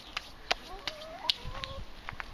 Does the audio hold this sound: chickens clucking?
yes